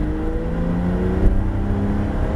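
A Porsche GT3 RS engine drones steadily up close on a wet Abbeville race circuit, pitch climbing gradually as it accelerates, with no voices over the motor.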